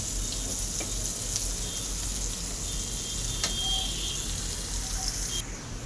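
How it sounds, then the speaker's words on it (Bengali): Onions with dried red chillies frying in a pan, a steady, loud, close sizzle that holds evenly throughout with a few small pops and ticks, and no talk. "ভালো করে আমি পেঁয়াজ ঝাল ভালো করে লাল লাল করব"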